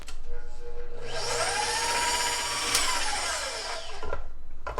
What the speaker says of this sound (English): I'm going to go ahead and turn my mixer back on and let the peanut butter get incorporated with the pumpkin